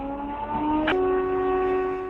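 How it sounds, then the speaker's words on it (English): A steady, sustained horn-like train siren tone that shifts slightly in pitch partway through, heard over faint background hiss. "These sounds included a train siren"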